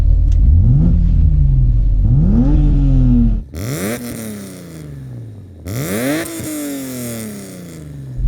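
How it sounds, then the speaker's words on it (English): A BMW E36 M3 with an aftermarket exhaust is revved repeatedly while parked, four sharp blips that each rise and fall away, loud and close, with the later revs sounding crisper and raspier. "Let's hear the E36 with its aftermarket exhaust."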